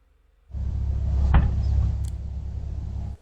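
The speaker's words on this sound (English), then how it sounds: "The collision itself happens off camera, but the sound of the impact is fully captured." A truck collision on a street at a stop sign, heard as a sustained low rumbling roar with one sharp, loud impact crack near the middle, then a brief high clink before the noise cuts off.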